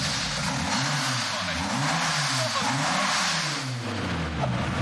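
A Lada's engine revs hard with its exhaust removed, a loud, raw, rasping roar rising and falling in repeated swells across the whole stretch, close by and with no talk over it.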